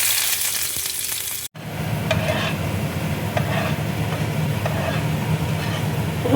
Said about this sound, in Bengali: এবার দেখো রসুন কুচি আমি দিয়ে দিচ্ছি।